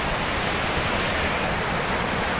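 Rushing mountain water pours down a large waterfall near Narkanda, a steady, loud, full-spectrum roar that stays constant and close throughout with no talking.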